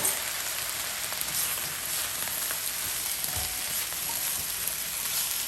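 Peppers and onions stir-frying with Shaoxing cooking wine for Chinese takeout-style pepper steak, a bright continuous sizzle close up, with a few soft taps and stirring sounds and no talking.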